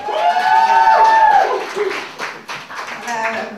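A crowd applauds and cheers for a singer at a live show, a dense wash of clapping that stays loud and then thins near the end, with a voice briefly heard.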